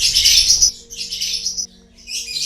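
Songbirds at a bird-singing contest field in Salatiga let out bursts of bright, shrill chirping and trilling, three loud close phrases separated by short gaps.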